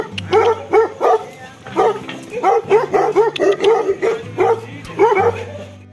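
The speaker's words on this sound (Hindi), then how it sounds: "ये देखो मेरे को देख के सारे भौंक रहे, छोटे छोटे बच्चे हैं यहाँ पर।" Puppies and dogs at a Bhotia dog kennel in Uttarakhand bark and yip in rapid overlapping bursts, loud and close, continuing throughout.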